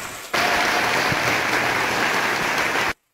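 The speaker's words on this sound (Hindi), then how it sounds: "इनके लिए भी ताली बजाओ।" Audience applause at a motivational seminar for a state civil service exam topper, a dense burst of clapping that starts suddenly, holds steady at full volume for a few seconds and then cuts off abruptly.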